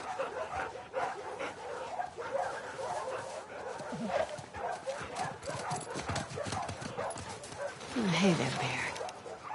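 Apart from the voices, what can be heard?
dog barking in the video game The Last of Us Part II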